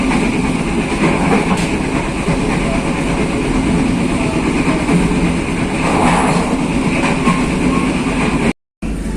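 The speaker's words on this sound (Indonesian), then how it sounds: "selamat datang di Kereta Api Ranggajati yang akan mengantarkan kita ke tujuan akhir stasiun Cirebon" The Ranggajati passenger train in Indonesia, bound for Cirebon, runs steadily on the rails, with a continuous loud rumble and faint rhythmic clatter from the wheels, close by.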